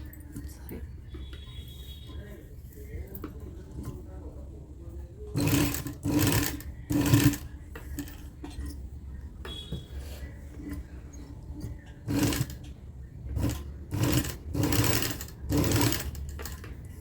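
A sewing machine stitches a blouse neckline in bursts of fast, close whirring, with quiet pauses and someone talking in between.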